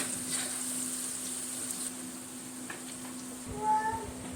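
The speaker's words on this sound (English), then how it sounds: "5 sprigs of curry leaf. Let it cook nicely for a while." Five sprigs of curry leaves fry in a pot for Malaysian nasi lemak, giving a soft, steady sizzle over a faint hum, with a brief louder crackle near the end.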